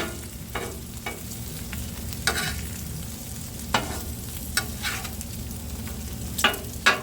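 Bacon sizzling on a Blackstone griddle, a constant close frying hiss with occasional sharper pops and crackles scattered through.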